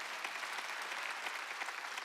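A church congregation at a Sunday worship service applauds, a faint but steady, dense patter of many hands clapping together without any speech.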